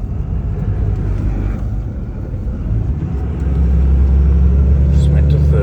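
A 2001 Dodge Ram 2nd gen Cummins diesel pickup with a 5-speed cruises slowly in fourth gear. Its engine drones low and steady from inside the cab, with the rumble growing a bit louder and heavier near the end.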